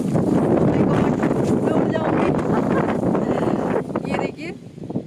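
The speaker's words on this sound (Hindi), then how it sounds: "बहुत ही हवा चल रही है" Strong wind gusts roar steadily into the microphone in Bengal ahead of rain, a loud continuous rush that eases slightly near the end.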